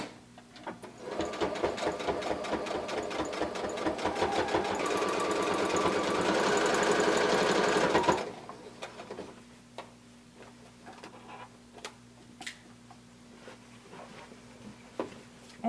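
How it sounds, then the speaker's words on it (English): A sewing machine runs steadily for about eight seconds, stitching a blanket coat's lining closed about an eighth of an inch from the folded edge, then stops, leaving faint scattered clicks and handling noises. "I'm sewing about 1/8 of an inch from the edge, from the folded edge"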